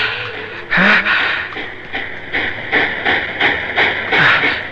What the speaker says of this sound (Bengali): ওই ট্রেনটি নিশ্চয় করাচি যাবে